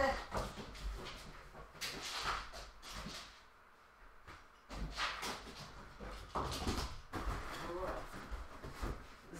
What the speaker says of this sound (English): This dog is on crack.